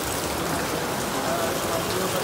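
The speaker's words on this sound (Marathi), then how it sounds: "खूप पाऊस पडतो आहे. हे बघा, जबरदस्त पाऊस." Heavy rain pours down in a dense, unbroken hiss that fills the scene at a steady loudness.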